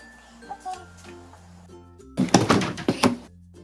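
A window or door is pulled shut indoors, giving a cluster of loud thumps and rattling knocks after quieter room noise with faint traffic hum in the background.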